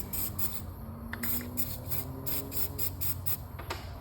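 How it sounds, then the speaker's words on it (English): Rapid bursts of penetrant hissing from a spray can repeat in short pulses, close by, during electric motor work on a wine grape destemmer, over a low mechanical hum. "I'm just spraying a little bit of this"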